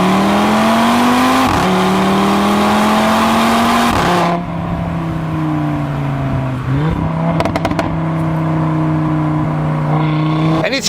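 An Audi RS3 in dynamic mode revs hard through several climbing pulls with brief dips between gear changes, a loud, close, snarling engine note that keeps rising, then holds steady near the end.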